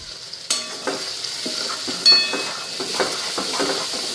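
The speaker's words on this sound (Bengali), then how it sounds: "তো এখন হালকা ফ্রাই করে নিই" Chili powder and turmeric sizzle softly in a pan with bright, steady frying hiss, broken by a few sharp scraping stirs of a spatula against the pan.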